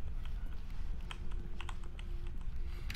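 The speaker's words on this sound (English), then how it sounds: "every single time I press this, that little keyboard sound you hear" Keyboard typing from a key press in The Stanley Parable, a run of light, irregular clicks at moderate level over a low steady hum, with no talking.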